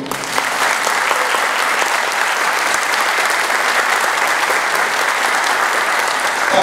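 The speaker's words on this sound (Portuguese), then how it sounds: "E vou pedir uma outra salva de palmas para o seu Valdir" Sustained applause fills the room at a samba film screening and tribute event, a thick, even roar of many hands clapping from start to finish.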